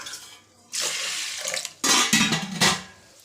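Running water splashing in a container as urad dal lentils are rinsed, in two bursts with a short pause between, close and fairly loud.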